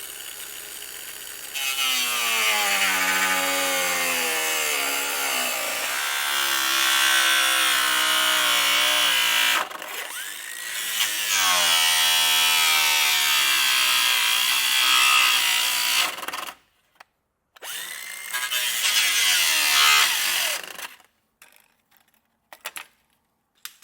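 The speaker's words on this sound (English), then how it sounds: "So I'm going to start out with a cut-off wheel that I have, and I'm just going to start working out where I'm going to cut this area out" A cut-off wheel grinds through metal on a 2021 Jeep Grand Cherokee, a loud, sustained whining screech with shifting pitch as it bites, broken by pauses and short restarts near the end.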